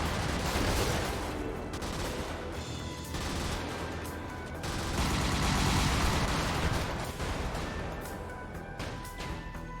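Laser shotgun blasts and explosions in the mech combat video game Brigador, forming a dense, loud, continuous barrage of gunfire and crashes that swells midway and stays busy throughout.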